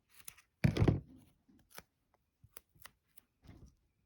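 Scissors cut through a clear acetate sheet while a tall birthday shaker card is being made: a cluster of crisp, close snips and crinkles, then scattered single clicks and a final short rustle, with no voices.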